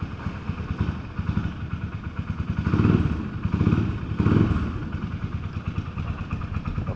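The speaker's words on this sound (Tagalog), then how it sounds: "Init pa init lang muna ng motor." A motorcycle engine warming up idles steadily with a chugging rumble, revving up briefly a couple of times before settling back to idle.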